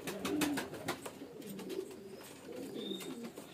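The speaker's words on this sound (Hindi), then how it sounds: "ये बस ये इतना सा कबूतर है" A male fancy pigeon in Rajasthan coos in soft, repeated throaty rolls close by, with sharp clicks and rustles over the first second.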